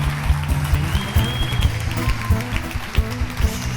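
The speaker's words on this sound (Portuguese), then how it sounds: "Aplauda o Senhor." A church congregation claps during worship, steady dense applause over a low rumbling musical backing and crowd noise, with a voice briefly calling out above it.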